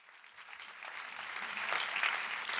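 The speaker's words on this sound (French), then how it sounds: "Et ça aussi, ça mérite des applaudissements." Audience applause at a nursing initiative event, starting softly and swelling into fuller, continuous clapping from a room of people.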